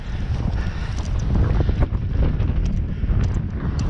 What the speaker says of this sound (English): windy day, windy evening.